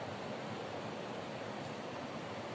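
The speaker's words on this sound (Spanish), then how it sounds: "Ya se escucha la presión del agua" Distant roar of the Pita river waterfall in Sangolquí, Ecuador: a dense, unbroken wash of rushing water, steady and even throughout with no voices.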